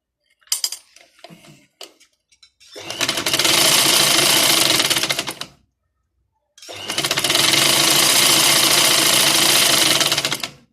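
A sewing machine stitching fabric in two loud, close, sustained runs of rapid mechanical clatter separated by a short pause, with faint handling clicks before the first run.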